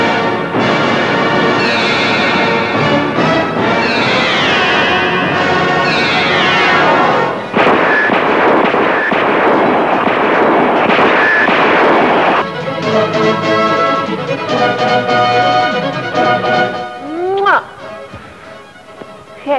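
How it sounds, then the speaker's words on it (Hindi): Loud, dense gunfire in a Pakistani action movie scene, with sustained bursts and crashing impacts layered over a dramatic music score and shouting voices. "इन सबको गोलियों से छलनी कर दो।"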